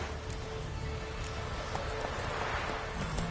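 Roach, the horse in The Witcher, gallops with a steady, fast clip-clop of hooves close by over a constant rushing background.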